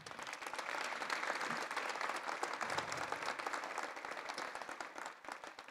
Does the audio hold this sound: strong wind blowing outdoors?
no